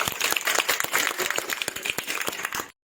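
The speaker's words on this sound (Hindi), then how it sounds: "अभी जो है ईसा कुमारी जैन के लिए ताली बजाओ सब।" A group of children claps for the winner of a quick sitting game in Madhubani, Mithila, producing dense, uneven close applause that stops abruptly.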